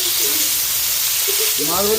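Fish sizzles and spits steadily as it fries in hot oil, a continuous close crackling hiss with brief louder flares toward the end, no voices over it.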